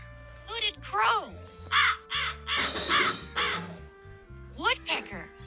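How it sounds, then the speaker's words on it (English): Harsh repeated caws of a cartoon hooded crow ring out loudly over light children's music, in several separate bursts, with a young voice speaking between them. "hooded crow,"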